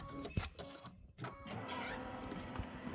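A computer embroidery machine stitches out a quilted Kimberbell nativity pillow block with a camel design, a steady mechanical whir with a few brief knocks and pauses early on, close and fairly quiet, no voices.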